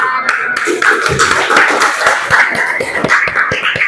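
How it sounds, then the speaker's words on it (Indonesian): Classroom students clap after a group presentation, a loud, close burst of uneven hand claps with distinct individual slaps over a busy room. "Tepuk tangan."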